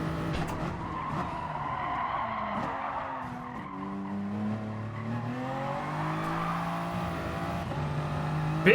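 A race car in Gran Turismo Sport slides through big oversteer, tires squealing and skidding loudly over a continuous engine roar that rises and falls as it shifts and recovers.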